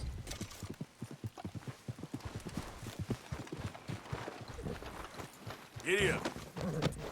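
A horse gallops in Red Dead Redemption 2, its rapid rhythmic hoofbeats drumming steadily close by, with a brief louder snort or whinny partway through.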